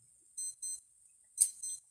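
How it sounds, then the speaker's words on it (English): An electronic alarm going off indoors, faint high-pitched beeps in short paired bursts repeating with a brief gap, distant and quiet with no talk. "here goes my alarm."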